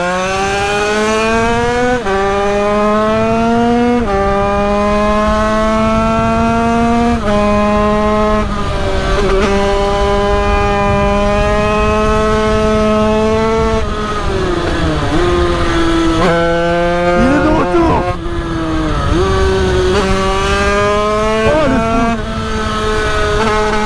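BMW 335d diesel car drifting, its engine holding a loud sustained drone that rises and falls in pitch through long revving pulls, with sharp dips between passes, close and continuous throughout.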